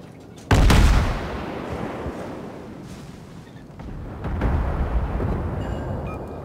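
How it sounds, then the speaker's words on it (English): Broadside gunfire from a warship in the naval battle game World of Warships: one loud, heavy cannon blast opens, then a long rumbling decay with a second swell of distant booming, with no voices. "I got a good broadside going."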